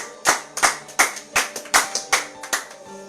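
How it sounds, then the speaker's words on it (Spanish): A congregation at a church service applauding, a run of about eight loud, sharp claps in an even rhythm, close and without voices. "pueda darle un fuerte aplauso al Señor"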